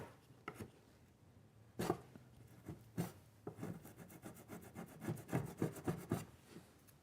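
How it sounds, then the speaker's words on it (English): Faint scraping and rasping of a chisel working a piece off wood on a toilet cabinet lid, a few isolated strokes then a quicker run of rhythmic scrapes. "let's see if I can chisel this thing off of here"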